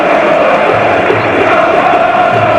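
A capacity crowd of just over 20,000 at a Championship football match between Portsmouth and Leicester City produces a loud, dense, continuous roar of massed voices and chanting that fills the stadium without letup.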